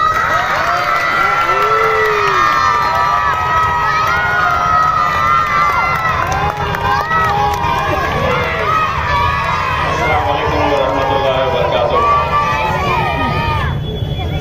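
A large crowd at a political speech cheers and shouts loudly and continuously for the MP, with whistles and voices rising over a dense roar that cuts off abruptly near the end.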